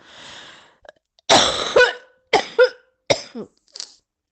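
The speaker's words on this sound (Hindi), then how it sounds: "खांसी बहुत ज़्यादा हो रही है" Several harsh coughs in separate bursts, close and fairly loud, following a soft breath at the start, with short pauses between each cough.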